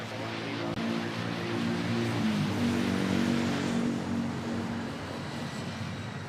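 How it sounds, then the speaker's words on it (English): A plane takes off from runway 31 at Manila Airport with a broad, steady jet engine roar that swells in the middle and eases slightly toward the end, heard from a distance without voices. "Take off here, runway 31."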